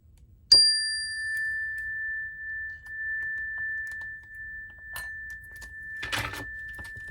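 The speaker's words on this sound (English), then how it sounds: "I'm gonna cleanse the space in the room with my bell as well" A handheld bell is struck once, used to cleanse a room at home. It gives a single clear ding that rings on with a long, slowly fading tone, followed by faint rustling and a brief clatter near the end.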